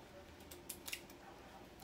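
Scissors snip at cosmetics packaging from a Boxycharm beauty box: two or three quiet, crisp cuts close by over faint background noise, no talk.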